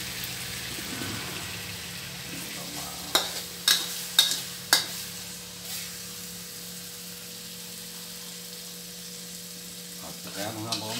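Curry stir-fried in a pan, a constant oily sizzle broken by a short run of sharp spatula scrapes and taps, then quieter frying with a few more knocks at the end.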